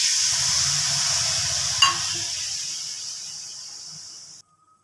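A spiced curry gravy for silver carp comes to a boil in the pot. There is a steady hiss with soft low bubbling that thins out over a few seconds before cutting off abruptly.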